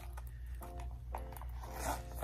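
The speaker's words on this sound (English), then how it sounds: "and it still zips up, no problem" A zipper runs along a Gucci key pouch that is packed with keys and cards. Short, faint zipping scrapes can be heard over a low background hum.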